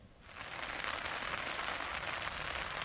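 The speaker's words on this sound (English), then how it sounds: "My visit was cut short by a sudden rainstorm, sending me back to the tent." Rain in the La Sal Mountains swells quickly after a quiet start into a dense, steady hiss of drops falling nearby, with no voices.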